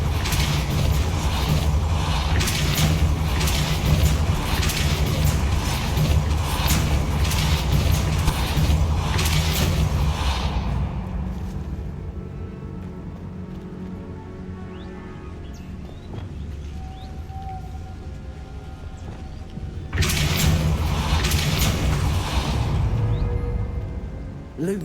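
Blast booms from the Depulso spell in the video game Hogwarts Legacy, a loud dense rumble for about ten seconds, then a quieter stretch of creaks, then another loud burst near the end.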